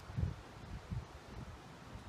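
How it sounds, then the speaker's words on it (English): Low, gusty wind of about 30 miles per hour buffeting trees outdoors, rising and falling in surges with a soft rustle of leaves underneath. "look how much the trees are moving. It's so windy right now."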